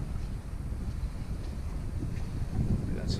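A gust of wind while sailing on a boat around Door County, heard as a steady, close rumble of wind buffeting the microphone that grows stronger near the end.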